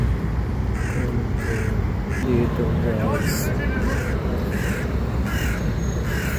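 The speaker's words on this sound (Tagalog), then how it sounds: "May uwak-uwak ang ingay niya." Crows caw outdoors near a dying tree in cold, changing weather, a repeated series of harsh calls over steady wind-like background noise, with a person speaking briefly.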